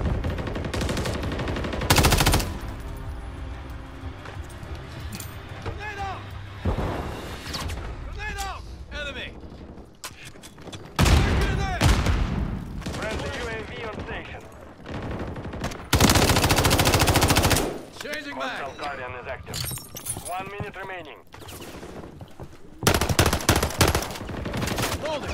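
Automatic weapon fire from the Call of Duty: Modern Warfare III beta on PS4, with sustained loud bursts, heavy blasts and explosions repeating throughout, and game voices calling out in between.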